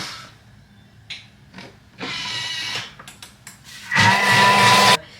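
Pancake batter is mixed with an electric mixer in short loud whirring bursts, one around a second long and a louder final burst, with handling knocks between them, close and alone.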